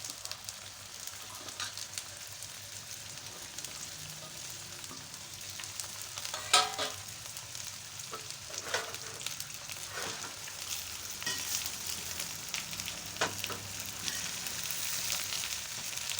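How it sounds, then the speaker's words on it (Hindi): Vegetables and onion frying in a pan, a steady soft sizzle with intermittent clinks and scrapes of stirring, heard alone with no talk. "अब मैं इसको इतना फ्राई करूँगी कि इसकी लेस ख़त्म हो जाएगी और प्याज भी सॉफ्ट हो जाएगी।"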